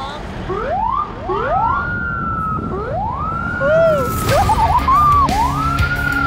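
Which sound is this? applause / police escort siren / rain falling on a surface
police escort siren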